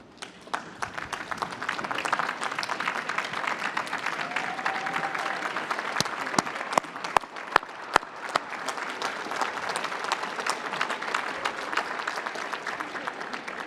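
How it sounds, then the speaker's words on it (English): Audience applause breaking out for immigrants standing up in a hall, a dense, sustained wash of many hands clapping, swelling quickly and holding steady, with a few sharper nearby claps standing out. "I applaud you"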